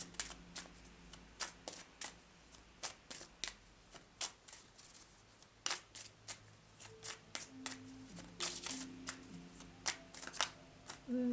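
A deck of goddess oracle cards being shuffled by hand, with sharp riffling bursts repeating at irregular intervals, close and fairly quiet, with no voice.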